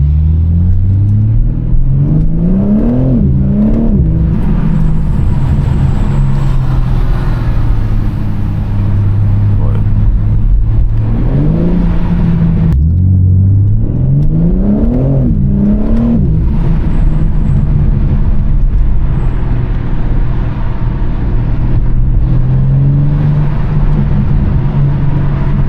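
A BMW M4 engine revs and shifts through the gears while driving, a loud steady rumble inside the car that rises and drops again and again.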